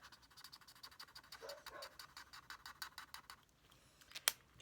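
Rapid, regular yelping barks from a dog somewhat distant, a steady rhythmic series with no talking, ending in a sharp click.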